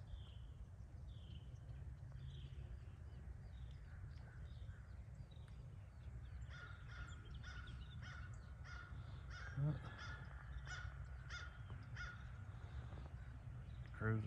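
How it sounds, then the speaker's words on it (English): Crows cawing outdoors on a calm day, a series of faint, distant caws repeating through the middle and later part over a low steady background hum. "Crows are singing."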